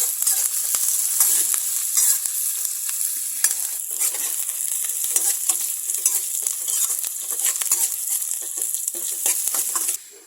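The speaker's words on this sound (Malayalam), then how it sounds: "എണ്ണ ചൂടായി വരുമ്പോൾ നമുക്കിതിലേക്ക് സവാള ഇട്ട് കൊടുക്കാം നമ്മുടെ പച്ചമുളക് ചെറിയും കൂടി ഇട്ട് കൊടുക്കാം" Onion, green chilli and curry leaves sauté in hot oil for a Kerala pulissery, a steady close sizzle and crackle with scattered stirring scrapes running throughout before easing off at the end.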